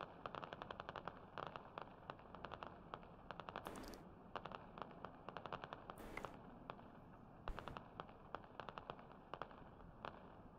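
Bursts of automatic rifle fire crackle through a Squad battlefield, rapid rhythmic volleys near and far, with a few heavier louder shots cutting through the steady combat din.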